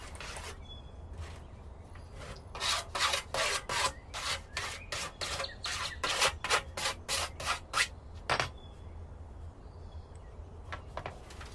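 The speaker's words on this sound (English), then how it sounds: "Make sure to dress up the cut with a file." A hand file is worked along the freshly cut edge of a metal sheet to deburr it, a run of about a dozen close, rhythmic rasping strokes that pause and return faintly near the end.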